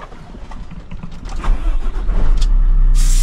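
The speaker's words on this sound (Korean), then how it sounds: "엔진 소리 진짜 좋다." A 2008 truck's diesel engine cranks and catches, then settles into a loud, steady low rumble up close, with a brief hiss near the end.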